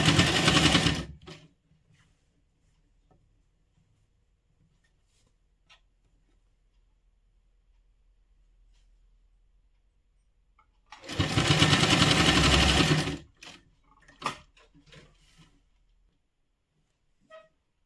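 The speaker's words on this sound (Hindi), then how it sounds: "उतने मार्जिन के साथ हम सिलाई को शुरू करेंगे।" A sewing machine stitches cloth for a frilled jhalar trim in two loud, steady runs, the first lasting about a second and the second about two seconds, separated by a long quiet gap with a few small clicks and taps between.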